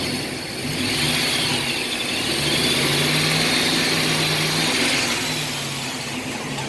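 An old Jeep XJ's engine revs and strains, a loud rough drone rising and holding for several seconds before easing off, heard up close.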